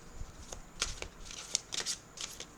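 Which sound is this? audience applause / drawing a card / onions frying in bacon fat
drawing a card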